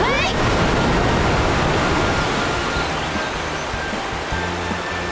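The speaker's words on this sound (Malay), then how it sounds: "Air akan mula mengalir sekarang ke tepi." Water begins to flow as a broad, steady rushing wash, loud and close from the start and easing only slightly as it continues.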